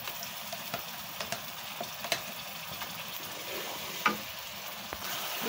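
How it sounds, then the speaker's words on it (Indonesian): Spice paste for Balinese ayam betutu frying in hot oil, a steady, fairly quiet sizzle with scattered small pops and crackles throughout, no talk. "minyaknya sudah panas, lalu kita akan goreng bumbunya"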